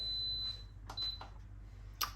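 An Instant Pot electric pressure cooker gives two short, high electronic beeps, followed by a faint click and a quiet hum underneath.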